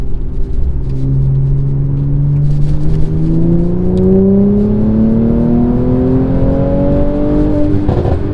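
A 2016 Mercedes-Benz C450 AMG engine revs hard while driving, its pitch climbing steadily through a gear with a loud, continuous interior drone and no talk.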